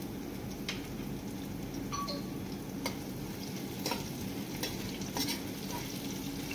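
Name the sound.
ginger and slit green chillies frying in a pan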